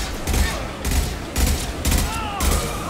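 Rifle fire in Mass Effect 2, delivered as about five loud, evenly spaced bursts of rapid shots across three seconds, close and dominant with faint game sounds between.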